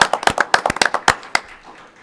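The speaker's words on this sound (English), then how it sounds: "Clap for that." A short burst of hand clapping at a city council meeting, a handful of people giving quick sharp claps that thin out and fade within two seconds.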